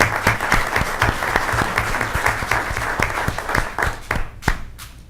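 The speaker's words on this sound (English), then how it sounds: "please give these lovely individuals another round of applause" An audience at a school board of education meeting claps steadily for about five seconds, a dense, even round of applause from a roomful of people, close and loud, tapering slightly at the end.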